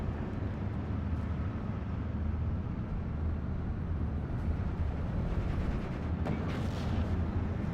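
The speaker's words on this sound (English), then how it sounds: "some very good hits by those mortar tanks" Mortar tanks hit and explosions boom in a WWII strategy game, forming a dense, continuous rumble of distant blasts and gunfire with no clear gaps.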